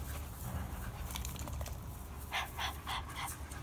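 A dog pants in quick, rhythmic breaths close by outdoors, with several short breathy bursts near the end and no speech over them.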